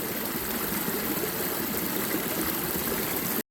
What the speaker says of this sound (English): So we are at the falls right here of the Tohickon Creek.